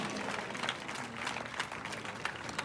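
Congregation at a church convention in Gurdaspur clapping loudly in thanks to God, a dense sustained wash of applause without talk.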